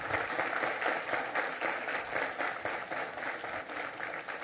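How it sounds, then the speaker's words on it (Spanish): A church congregation breaks into steady, dense applause in praise of God, a full room of clapping hands sustained throughout at even volume. "Denle un aplauso a Dios."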